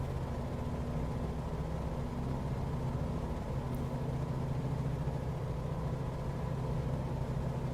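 A small FSReborn Sting S4 light aircraft in a flight simulator drones with a continuous, even propeller engine hum, low and steady throughout with no speech over it.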